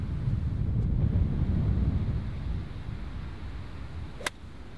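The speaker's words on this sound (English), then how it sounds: "it's still a very strong wind" Strong wind buffets the microphone on a golf course, a low, rumbling gusty roar that eases partway through, then a brief sharp knock near the end.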